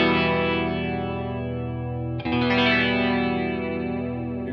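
Distorted electric guitar through a Mooer Ensemble King analog chorus pedal with the rate set all the way down, a sustained chord ringing thick and slightly shimmering, then restruck once midway and left to hang, with no talking.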